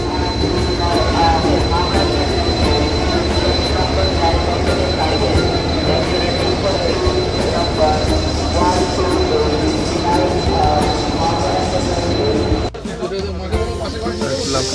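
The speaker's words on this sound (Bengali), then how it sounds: "টাইম হলো এখন 11:46, সেই সময় ট্রেন ছাড়লো" Howrah–Adra–Chakradharpur Express pulling away from platform 20 at Howrah station: a steady, loud rumble of rolling rail cars with metallic squeal and station hubbub, cutting off abruptly near the end.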